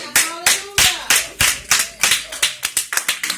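A church congregation claps in praise with loud, close, somewhat irregular hand claps, about fifteen in quick succession.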